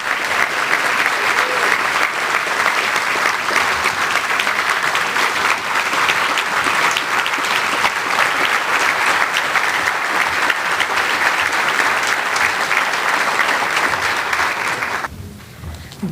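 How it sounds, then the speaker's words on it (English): An audience at a tech summit in San Francisco gives Reverend Jesse Jackson loud, sustained applause, a dense unbroken roar of clapping that runs for many seconds and then cuts off abruptly. "and that is an applause of honor"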